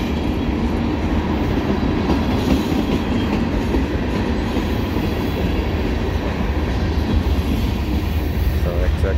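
A CSX mixed freight train led by a YN2-painted locomotive rolls past at Bartholows, Maryland, hoppers and gondolas producing a loud, steady rumble with rhythmic wheel clatter close by.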